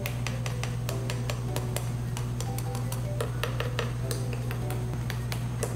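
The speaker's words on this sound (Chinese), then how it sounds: "非常的酥脆，用少油的方式也可以炸得酥酥脆脆的哈。" Golden crispy-skinned tofu, freshly shallow-fried, crackling in quick sharp snaps and ticks, irregular and close, over a low steady hum with no voices.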